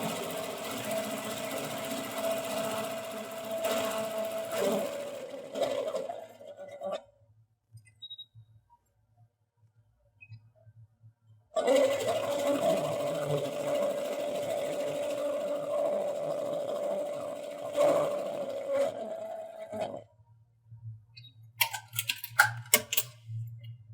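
Sewing machine stitching a fall quilt block, running in two long steady bursts of rapid even stitching separated by a quiet pause, with soft clicks and handling noises after.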